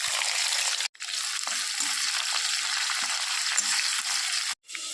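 Chopped onions sizzle loudly in hot oil with cumin in a frying pan while cooking a mutton curry, a steady broadband hiss broken by two short pauses and faint stirring taps beneath.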